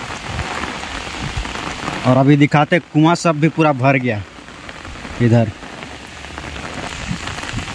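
Heavy rain pours steadily on surfaces during a flood, its broad hiss running throughout, with someone speaking over it in the middle and again briefly near the end.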